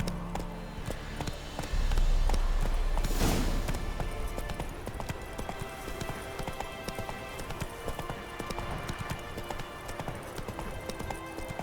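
Roach the horse gallops in The Witcher 3, a fast rhythmic clip-clop of hooves over ground that carries on steadily throughout, with no talk over it.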